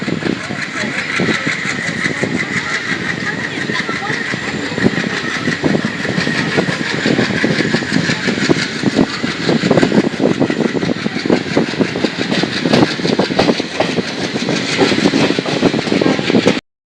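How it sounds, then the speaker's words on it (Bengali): Passenger train 15767 from Siliguri to Alipurduar running at night, a steady loud rumble and clatter of wheels and carriages throughout, with voices talking over it. "আমাদের ট্রেন এসে পৌঁছেছে তার সেকেন্ড লাস্ট হল"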